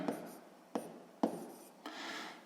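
A pen writes a fraction on paper by hand, making four short scratchy strokes, each starting with a sharp tap and fading, the last drawn out longer, close and quiet with no talking.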